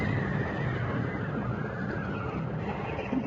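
Terrified horses in an old-time radio mystery drama, a dense continuous wash of neighing and commotion that stays loud and steady throughout, with no talking.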